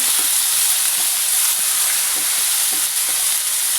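Crushed ginger and garlic fry in hot oil in a pan for paneer curry, giving a loud, steady sizzle with faint scraping stir sounds throughout and no talking.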